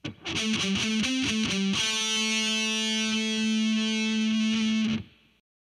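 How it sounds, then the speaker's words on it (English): Palm-muted heavy metal electric guitar rips through a quick run of choppy distorted notes on the 4th string, then lands on a long ringing sustained note that stops abruptly. "Now sped up with palm muting."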